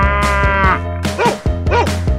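A cow moos loudly and up close, several drawn-out lowing calls in a row, heard alone among animal sounds from a children's animal clip.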